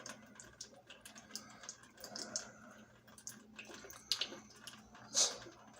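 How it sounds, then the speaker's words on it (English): Water drips and trickles from a domestic washing machine during a mains outage, faint irregular splashes and small plinks, quiet and close, with no talk. "water is dripping out of our washing machine here"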